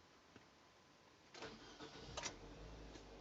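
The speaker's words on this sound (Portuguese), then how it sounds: "Aqui a gente vai executar a partida do motor." A Nissan Tiida car engine cranks and turns over, rising into a running rumble after a quiet stretch, fairly faint and with no voices.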